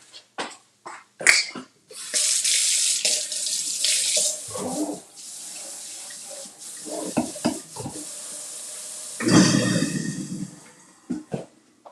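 Kitchen sink tap running while hands are washed under it, a steady splashing rush of water with brief clicks and knocks, close, stopping and restarting with a louder gush near the end.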